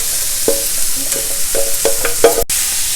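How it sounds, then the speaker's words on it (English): Onions and chopped beetroot sauté in a pan for a South Indian poriyal, with a soft background sizzle and several distinct spoon scrapes and clinks, ending in a brief cut. "Saute the onions for a few minutes. Next, add in the chopped beetroot."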